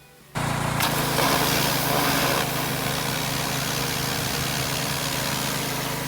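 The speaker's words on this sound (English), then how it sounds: "Some of the light dirt came off easily with the pressure washer." A petrol pressure washer engine runs steadily while blasting dirt, oil and grease off the rusty frame of a 1980 Toyota pickup truck, a loud continuous drone that starts abruptly after a short quiet moment and holds without talk.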